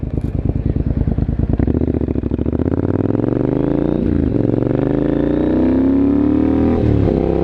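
A Triumph Scrambler 900 motorcycle with an Arrow exhaust, close and loud. Its engine goes from a pulsing, lumpy idle into smooth rising revs, with throttle blips partway through and near the end.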